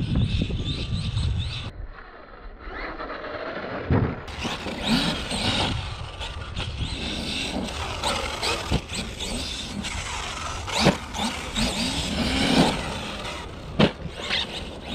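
Motor of an HSP 1/8 RC truggy run on a Surpass Hobby 150A 6s ESC, whining and surging in uneven bursts with sharp spikes, close by and fairly loud against wind and outdoor noise.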